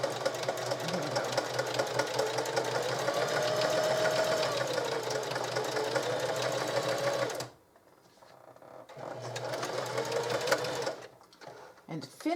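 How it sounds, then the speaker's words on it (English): A sewing machine stitching vintage linen into a bag, a close steady whirring hum with a rapid mechanical tick that runs for several seconds, drops away briefly, then resumes in shorter bursts. "Now back stitch to the edge."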